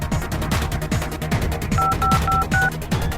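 Telephone keypad tones dialing a number in a drama scene: a quick run of four or five short, evenly spaced beeps over a steady background of music and room sound, with no talking.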